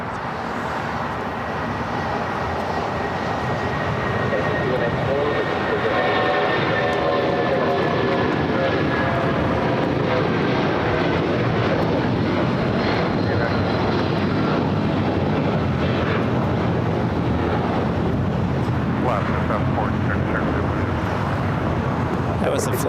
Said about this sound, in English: That was a flight to Newark